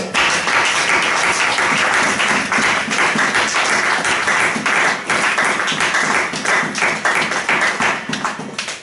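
A church congregation claps and acclaims the Lord with loud, sustained, rapid applause that fills the room from start to finish, with little voice above it.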